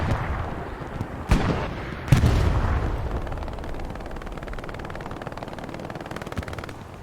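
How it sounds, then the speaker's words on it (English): Video game artillery strikes land in a competitive match, two sharp explosive booms followed by rattling bursts of gunfire and a lingering rumble of distant battle. "We'll probably see some artillery hitting very shortly."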